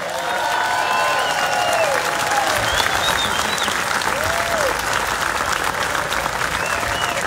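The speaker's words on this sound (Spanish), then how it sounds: "yo quiero que le den un fuerte aplauso, por favor, estos dos grandes" A concert crowd at an outdoor amphitheater in San Juan gives loud, sustained applause for two percussionists at a tribute show, a dense steady roar of clapping with scattered whistles and cheers.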